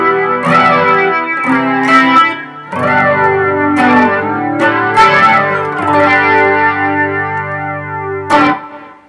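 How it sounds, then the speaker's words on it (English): Electric guitar through a flanger pedal, loud and sweeping with a swirling, chorus-like shimmer over ringing chords and picked notes, playing alone without speech. "Just so you know what a flanger sounds like."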